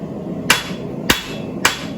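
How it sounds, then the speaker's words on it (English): Three evenly spaced, sharp hammer blows ring on hot steel while blacksmith tongs are forged at an anvil, each a loud, close strike over steady workshop hum. "make sure your hammer blows are flat"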